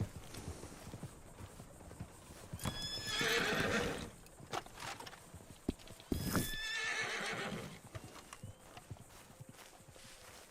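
A horse in a video game race neighs loudly twice, each whinny standing out over the steady clip-clop of hooves and faint background noise.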